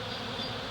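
Honey bees from a large, disturbed colony drone in a dense, continuous buzz, close and steady with no pauses.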